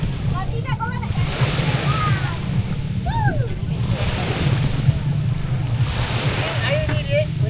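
Strong sea waves and surf at a beach in Port Dickson, a steady loud wash of water throughout, with children's voices and talking over it.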